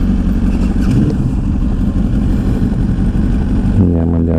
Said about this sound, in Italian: Godetevi questo giro in moto